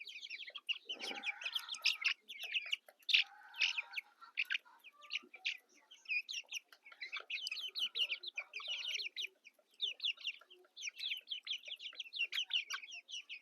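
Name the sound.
desi chicken chicks clucking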